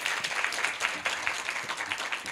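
Lecture audience applauding at the close of a university colloquium talk, a dense, steady wash of many hands clapping at moderate level with no voices over it.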